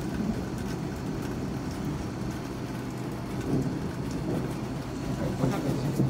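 Steady heavy rain pours during a thunderstorm, a dense continuous hiss with low rumbling swells building toward the end, heard close and without speech.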